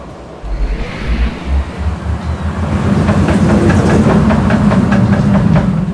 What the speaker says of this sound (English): I will do a quick POV of the Gerstlauer Infinity Coaster